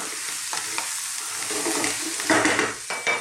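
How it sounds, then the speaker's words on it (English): Spices fry and sizzle in a hot pan over high heat for an Indian potato chickpea curry, with a steady broadband hiss broken by several scraping stirs and utensil knocks, close and moderately loud, no talking. "We want to cook our spices, but we don't want them to burn, otherwise they're going to get bitter."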